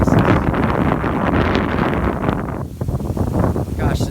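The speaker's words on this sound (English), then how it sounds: "this wind is out of control" Strong wind gusts roar steadily across an outdoor microphone, buffeting loudly for several seconds with a brief dip before picking up again, while someone speaks over it.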